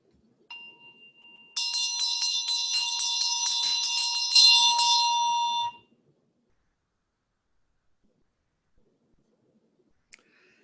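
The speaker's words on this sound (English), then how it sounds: "Need a bell and dorje here, if you're doing this at home" A ritual handbell rung during Medicine Buddha practice, with a dorje also used: a single soft tone, then a rapid ringing run of bright, shimmering strikes lasting about four seconds that stops abruptly, followed by quiet and a faint tap.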